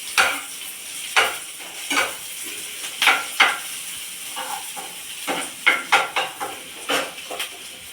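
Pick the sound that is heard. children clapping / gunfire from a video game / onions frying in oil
onions frying in oil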